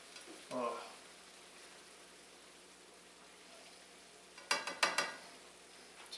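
Grape tomatoes blistering in a pan: a quiet sizzle underneath, with a brief stir early on and a cluster of louder clattering bursts near the end.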